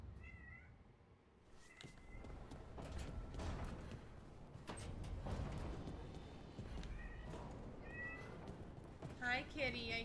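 A cat in a fantasy video game meows several times in short, high-pitched calls spread across the clip. They sit among creaks, mechanical clatter and someone talking.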